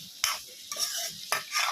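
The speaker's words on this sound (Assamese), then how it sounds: "ইয়াত ধুনীয়াকৈ লৰাই দি" A spoon stirs curry seasoned with garam masala, red chili powder and water, giving three quick scraping strokes through the wet, sizzling mixture in a pan.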